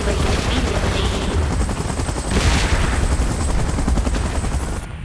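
A helicopter arrives in a Godzilla and King Kong video game with a loud, continuous rotor chop and engine roar, swelling briefly mid-way before easing off at the end.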